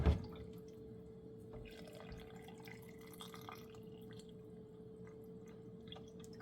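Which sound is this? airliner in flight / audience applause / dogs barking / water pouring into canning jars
water pouring into canning jars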